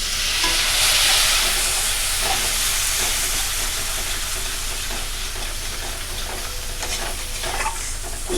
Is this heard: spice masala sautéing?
yes